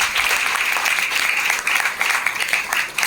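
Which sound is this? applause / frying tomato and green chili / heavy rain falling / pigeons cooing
applause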